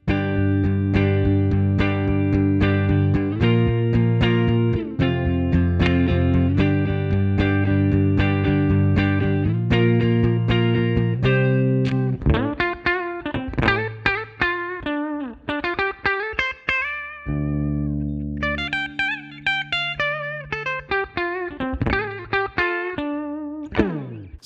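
A clean electric guitar through a Fender Twin-style amp plugin plays sustained chords, then shifts to picked single notes and arpeggios, with a light touch of reverb and no voices.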